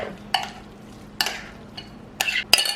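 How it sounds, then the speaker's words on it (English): A spoon scrapes and clinks in a pot as a cheese mixture is stirred into a beef mixture, with four or five separate strokes spaced across a quiet kitchen background. "we're gonna stir all that together."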